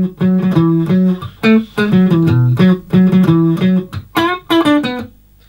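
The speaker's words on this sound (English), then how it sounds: "The riff that Red is playing in the bridge sounds like this." Electric guitar plays a bridge riff, a bright, close series of plucked and bent notes in short rhythmic phrases, loud and alone before ringing out.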